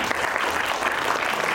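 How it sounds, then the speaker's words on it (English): Dense, steady applause from a children's literature festival audience, filling the whole moment at an even, close level with no pauses. "A huge round of applause for you."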